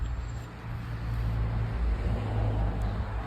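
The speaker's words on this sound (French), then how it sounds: "Fais gaffe, il y a une voiture." A car passes on a road near an abandoned campsite, a low steady rumble of engine and tyre noise that swells slightly midway and stays moderately distant, with no voices.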